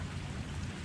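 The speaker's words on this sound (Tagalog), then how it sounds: "Sana tumila tong ulan guys." Steady rain pours down at a fishing pond in dense, continuous patter with a low rumble beneath, close and even throughout with no voices.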